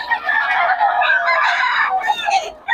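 Roosters crowing and chickens clucking at a poultry yard in Bocaue, a dense, loud overlapping chorus of several birds calling close by without pause.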